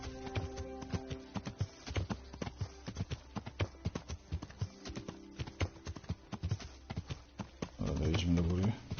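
Horse hooves clip-clopping in the video game Kingdom Come, a rapid, uneven run of hoofbeats at moderate volume, with a louder rumbling swell near the end.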